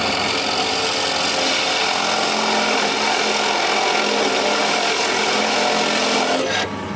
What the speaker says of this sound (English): we'll drill this side first